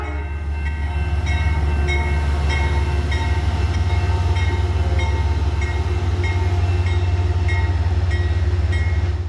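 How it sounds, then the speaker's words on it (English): Amtrak's southbound Ethan Allen passenger train arriving at the Fort Edward station, a loud, steady rumble of engine and rolling wagons throughout, with faint horn tones above it and no talk. "When we had arrived at Fort Edward, Amtrak's southbound Ethan Allen was arriving."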